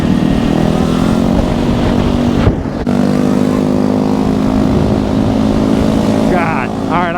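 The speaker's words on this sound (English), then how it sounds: "Riding in a pack of scooters hidden with a SUR RON." A Sur Ron electric dirt bike rides in a pack of gas-powered scooters during a Christmas parade, where a loud, steady engine drone holds throughout, broken by a brief dip, while riders talk over it.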